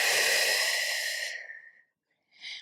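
Close, airy breathing during a standing Pilates side stretch: a long breath tapering off, a brief silence, then a short fresh breath starting.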